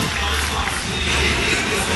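Crowd cheering at the 2013 X Games skateboard Street League elimination in Los Angeles, a steady broadband roar of many voices filling the arena for the full two seconds with no pauses.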